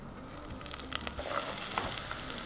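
Chopped large onion frying in a little oil in a pot, a continuous sizzle with crackles and occasional stirring scrapes, close and moderately loud.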